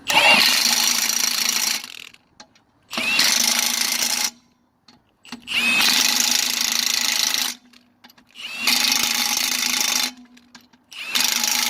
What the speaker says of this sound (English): if you're using a drill, you want to keep in mind that you should only tighten it as tight as a human being could tighten it